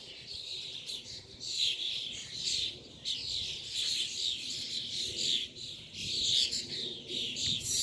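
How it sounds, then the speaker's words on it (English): Wild birds sing in springtime in Austria, a dense chorus of chirps and trills going on continuously, with a soft dove-like cooing mixed in at moderate distance and no voices. "birds. They are wild."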